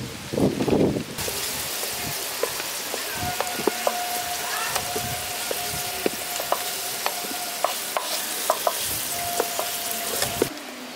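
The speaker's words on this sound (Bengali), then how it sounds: "আলুগুলো এখানে ভাজা হয়ে গেছে" Potatoes fry in hot oil, a steady close sizzle with scattered pops and crackles and occasional utensil taps, a louder rustle at the start, no voices.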